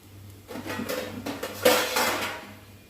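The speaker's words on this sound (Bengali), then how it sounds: "ঢাকনা দিয়ে ঢেকে দেবো" Metal clatter of a lid set onto a pot of moong dal cooked with squash, a few light clinks and knocks close by in a quiet kitchen, no voices.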